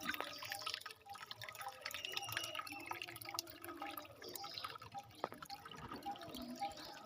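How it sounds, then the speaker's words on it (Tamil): Water drips from the roots of a banyan tree on a rocky forest path to a spring, soft scattered drops and trickles heard quietly against a faint outdoor background. "மரத்து தூர் வேரில் தான் தண்ணி வரும்"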